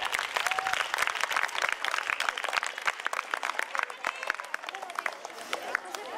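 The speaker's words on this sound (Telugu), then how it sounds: "సో వాళ్ళకి ఒకసారి గట్టిగా చప్పట్లు కొట్ట." An audience claps loudly and continuously at a ceremony honoring parents, a dense, steady patter of many hands that fades slightly toward the end.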